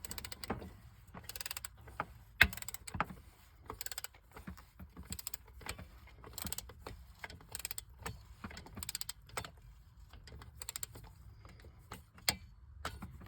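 A torque wrench tightens the band adjuster on a Torqueflite automatic transmission to 72 inch-pounds, with a series of sharp, close mechanical clicks and ratcheting ticks at an irregular pace and no talking.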